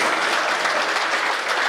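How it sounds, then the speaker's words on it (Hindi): An audience at a Hindi poetry recital claps briefly, a dense, even burst of many hands lasting under two seconds. "थोड़ी ताली बजा दीजिए।"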